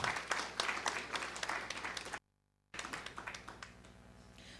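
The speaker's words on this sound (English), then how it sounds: "it deserves a huge round of applause for our dignitaries on stage" Applause at a summit for dignitaries on stage, a crowd clapping loudly, then a brief dead gap before the clapping resumes and gradually thins out.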